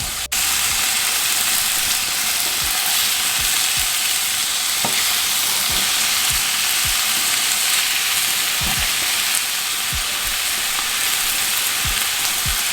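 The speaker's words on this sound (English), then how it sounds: "I added a little bit of olive oil, and now I am actually gonna go in and add the salmon, and I'm just gonna mix this up" Salmon sizzles steadily in olive oil in a pan, a continuous loud frying hiss with scattered soft scrapes and taps as the pieces are stirred, no talking.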